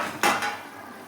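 A lid set onto a cooking pot, one quick metallic clank that rings briefly and fades over a faint kitchen background.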